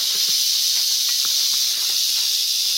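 A rattlesnake's continuous dry, buzzing rattle hisses steadily throughout, loud and close, with a few faint soft knocks underneath.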